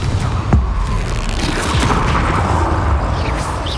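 A fiery spell blast from Hogwarts Legacy bursts with a sharp boom early on, followed by a dense, rumbling wash of combat noise that stays loud throughout.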